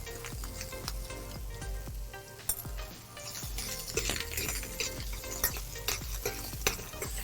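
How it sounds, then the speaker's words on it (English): Butter and a little oil frying in a pan while braised moringa with chili cooks, a steady close sizzle broken by frequent clinks and scrapes of stirring, with no talk. "We put a little oil."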